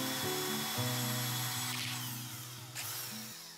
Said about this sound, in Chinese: 所以在钻孔的时候要格外小心